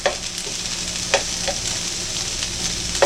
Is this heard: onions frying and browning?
yes